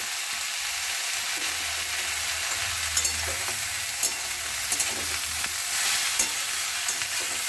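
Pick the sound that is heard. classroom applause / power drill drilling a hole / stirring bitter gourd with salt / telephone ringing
stirring bitter gourd with salt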